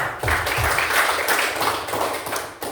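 A classroom audience claps after a student group presentation, several hands beating in loose, uneven rhythm for a few seconds at moderate volume.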